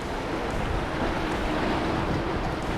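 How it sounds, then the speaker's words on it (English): Constant broad wind rush buffeting the microphone on a reefy shoreline, with a faint wash of surf beneath and no voices. "It's a little bit windy as well"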